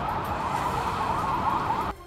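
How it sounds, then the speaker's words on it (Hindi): Pakistani army vehicles pass with emergency sirens blaring, a loud, steady wavering wail that cuts off abruptly at the end. "पाकिस्तानी सेना की गाड़ियां इमरजेंसी सायरन बजाते हुए गुजरती दिखी।"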